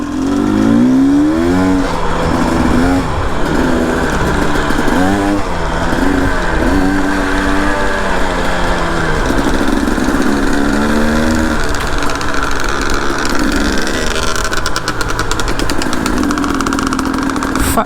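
A Chinese HengJian Z300 S7 two-stroke motorcycle rides a trail near Chongzhou, China, its engine buzzing loud and close throughout, revving up and down as the rider shifts into second gear.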